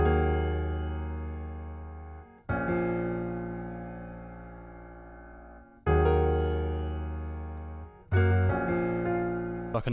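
Sampled keyboard chords ring out in long sustained stabs, each struck about every three seconds and slowly fading before the next, warm and full with no voices.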